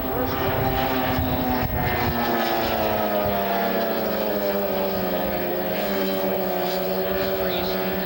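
An unlimited hydroplane racing boat runs the race course in Miami, a loud continuous engine roar with steady droning harmonics, close and dominant throughout.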